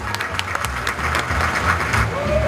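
A crowd at a tattoo convention in Maribor claps steadily and loudly throughout, a dense wash of applause with a brief tone near the end.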